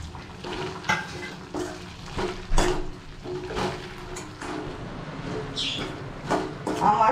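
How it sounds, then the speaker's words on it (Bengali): Prawns being stir-fried with spices in a pan, with soft frying sizzle and intermittent scraping and clinking from a spatula, fairly close and moderately loud. "আরও আমি 3 মিনিট ভালো করে কষিয়ে নেব।"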